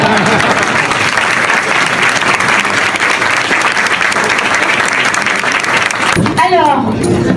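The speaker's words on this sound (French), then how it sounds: "Vous pouvez applaudir." A large audience at a ministry ceremony applauds, dense and loud continuous clapping that fills the room for several seconds, with a voice emerging at the very end.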